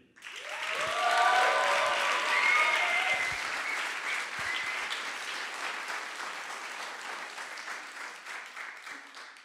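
At a coding bootcamp demo day in Paris, the audience applauds a project team, swelling quickly into dense, steady clapping with a few cheers early on, then slowly thinning over several seconds.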